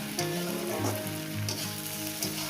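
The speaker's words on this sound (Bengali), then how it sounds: "ডিমটা একটু কড়া করে ভাজবেন" Egg frying with snake gourd in a pan on a gas stove at medium heat, a steady close sizzle and crackle of hot oil with faint stirring, no talk.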